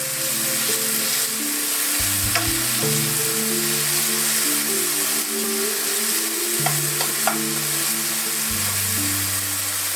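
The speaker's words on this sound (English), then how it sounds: "Give the tomatoes a bit of a squish with a spatula to release the juices." Tomatoes pressed down with a spatula in a hot, sizzling pan give off a steady loud crackle of frying throughout, with sustained background music playing over it.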